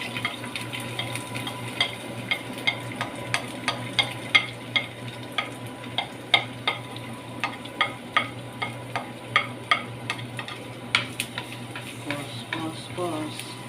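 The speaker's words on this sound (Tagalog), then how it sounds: "So, lalagyan na natin siya ng mantika. Ang bawang syempre." Garlic frying in cooking oil in a home kitchen, heard as a steady low sizzle with a regular run of sharp clicks and taps from stirring.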